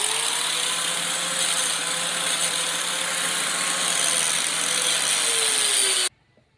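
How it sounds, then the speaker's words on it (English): A grinder runs steadily against the rubber part of a 2014 Ford Edge drive shaft near the center bearing, a loud continuous whine with a slowly shifting pitch that cuts off abruptly at the end. "rubber part here, I took my grinder and ground it off"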